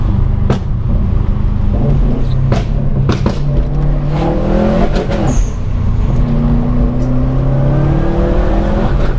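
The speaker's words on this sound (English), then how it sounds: "Even though the exhaust is so loud, it's louder than the Clio now." Subaru WRX STI with a loud aftermarket exhaust, heard from inside the cabin while driving hard: a near, continuous engine drone that rises and falls through revs and gear shifts, with sharp pops and bangs, alone without talk.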